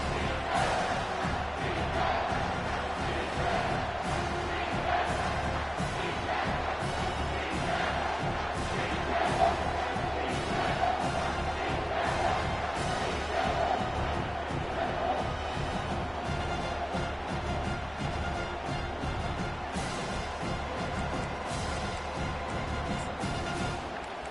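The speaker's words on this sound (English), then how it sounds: "comes this home crowd as the defense tries to get off the field on third down" Home crowd at an American football game roars continuously as the defense faces third down, a loud, sustained, distant stadium din with no clear breaks.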